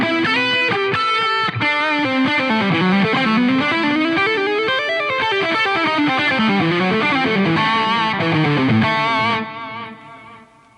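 High-gain electric guitar lead lines played through a Line 6 Helix Soldano SLO amp model, distorted and sustained with fast melodic runs, loud and alone, fading out into a ringing tail near the end.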